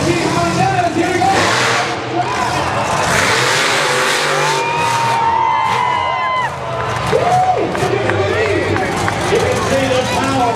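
Iron Outlaw monster truck engine roaring and revving loudly in a stadium arena, sustained throaty bursts rising and falling over a cheering crowd and babble, with a commentator talking throughout.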